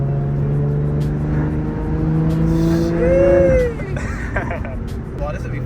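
A Nissan GT-R R35 sports car engine hums low and steady nearby, rising briefly as it revs before settling back, with people chatting over it.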